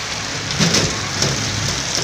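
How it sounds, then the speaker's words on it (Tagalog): Dense, steady downpour of heavy typhoon rain in Metro Manila, a continuous hiss with a few louder spatters, no voices. "Grabe na ang lakas ng ulan."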